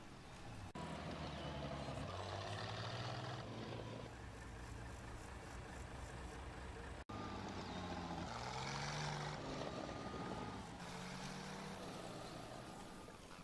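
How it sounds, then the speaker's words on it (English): German half-tracks led by a Kubelwagen racing across a valley in the Combat Mission WWII strategy game, a steady loud engine drone and rumbling motor hum throughout with shifting engine tones, no talk. "1st Platoon race towards Objective Sue in the half tracks, led by a Kubelwagen from the Flak Platoon"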